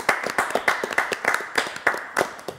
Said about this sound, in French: Voilà, on les applaudit quand même.